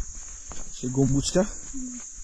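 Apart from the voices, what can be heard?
crickets chirping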